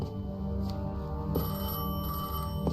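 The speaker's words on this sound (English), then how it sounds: "What does matter is that the unknown was calling. Long distance. I knew if I didn't pick up that phone" Telephone ringing in the video game Zenless Zone Zero, a steady electronic ring with repeated pulses over a continuous background hum, fairly quiet and with no talking.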